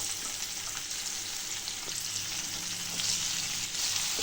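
Onions sizzling in hot oil with green chillies and curry leaves for rava upma, a soft, continuous frying hiss with faint stirring, heard alone and fairly quiet.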